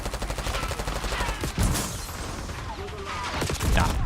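Gunfire in the Warzone video game, a rapid burst of automatic shots followed by scattered louder reports and mechanical clatter, close and dense.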